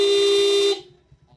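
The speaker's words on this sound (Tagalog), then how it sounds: "Switching function dual horn." A Honda RS 125 motorcycle's dual horn gives one loud, steady honk of about three-quarters of a second, then cuts off sharply into quiet.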